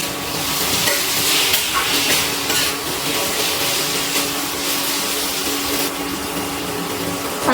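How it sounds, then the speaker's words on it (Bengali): Ginger garlic paste frying with potatoes in a pan, a continuous close sizzle with a spatula stirring and scraping against the metal. "আদা রসুন বাটাটা ভালো করে কষিয়ে নিচ্ছি।"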